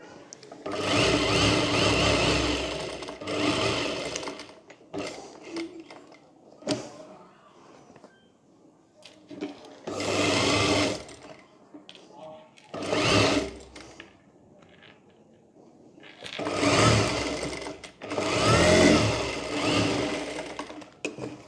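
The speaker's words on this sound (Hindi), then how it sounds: "यहाँ पर हम अस्तर वाला पार्ट इस पर रख कर यहाँ पर पूरे में सिलाई कर लेंगे।" A sewing machine stitches the lining piece of a sleeveless princess-cut blouse. The motor whirs loudly in several bursts of one to three seconds, with short pauses in between, and there is no talk.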